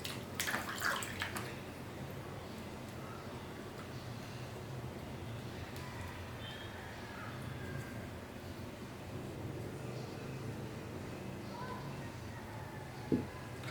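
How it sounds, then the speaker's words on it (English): A foot is washed with soap in a water basin during a foot-care demonstration, with soft, faint sloshing and splashing throughout and a small clink near the end. "Place one of the client's feet in the basin and wash it with soap"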